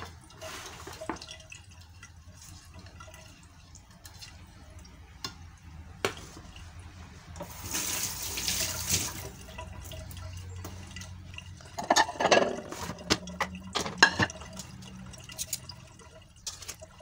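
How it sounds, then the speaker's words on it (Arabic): Water is poured into a cooking pot of eggplant in a home kitchen, a brief soft rushing splash in the middle amid quiet drips, light clinks and utensil clatter. "غادي نزيد واحد شويه الماء"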